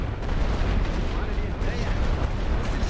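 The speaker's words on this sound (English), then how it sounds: "Those grenades will take out the machine gun post." Grenades exploding at a machine gun post in a WWI trench-warfare video game, a dense, loud rumble of blasts and battle noise with deep booming bursts throughout.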